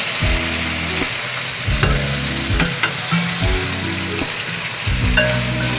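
Chicken hits a hot pan with tomatoes for pochero and sizzles loudly and steadily, with intermittent stirring scrapes and clatters over the frying.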